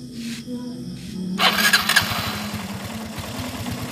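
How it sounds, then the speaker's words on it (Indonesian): A newly bought motorcycle with a weak battery is electric-started up close, a short starter whir and crank followed by a rapid rhythmic chugging as it turns over. "ini motornya mau kita starter"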